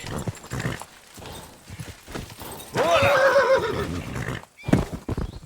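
A horse whinnies loudly in Kingdom Come: Deliverance II amid hoofbeat clip-clops and ambient game sounds, a short neigh rising over steady trotting.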